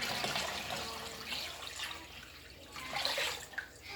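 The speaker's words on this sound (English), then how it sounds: "now I'm actually going to add 2 gallons of water to this because it's a big container" Two gallons of water splash and gurgle steadily into a large container for homemade chicken broth, a continuous hissy pour that swells and fades slightly, with no voices.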